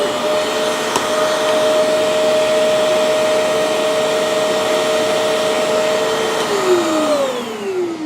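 Hoover portable carpet and upholstery cleaner running with a steady loud motor whine and spray hiss, holding one pitch for about seven seconds before winding down.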